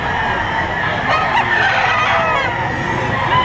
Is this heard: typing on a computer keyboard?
no